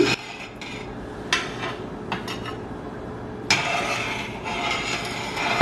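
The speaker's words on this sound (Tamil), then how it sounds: "இப்போ இதை நீ கை விடாமல் இதை நீங்கள் கிண்டி எடுக்கணும்" Thick rice flour dodol stirred in a pan on the stove, with a utensil scraping and clinking against the metal in irregular strokes over a low steady background hum.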